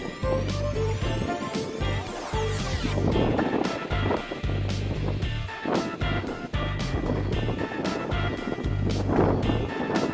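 Strong wind gusting on the 1,458 m summit of Balwangsan mountain under cloudy, cold skies, a loud continuous roar buffeting the microphone with heavy rumbling and clatter throughout.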